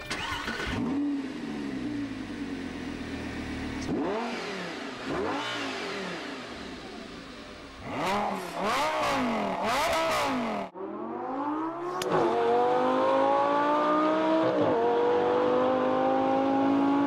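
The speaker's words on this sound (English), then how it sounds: "At the same time, we're going to have a Lamborghini at full pelt." A Lamborghini accelerating at full speed on a track: loud, repeated engine revs rise and fall through several gear changes, then a long climbing high-pitched run, with no talk.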